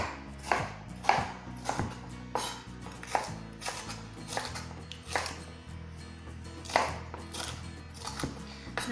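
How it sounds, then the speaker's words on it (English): A pepper is roughly chopped with a knife on a chopping board while preparing chicken and chorizo paella, giving a series of close, sharp, irregular knife strikes against the board with no talking. "I'm just going to roughly chop it."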